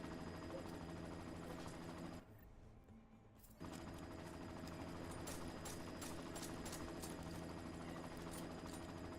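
Helicopter in the video game Deus Ex: Mankind Divided, a loud continuous rotor thrum with a dense rhythmic chop that drops out briefly for a second before returning just as heavy.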